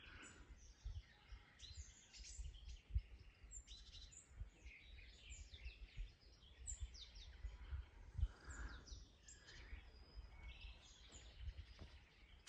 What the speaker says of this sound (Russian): Послушайте птичек.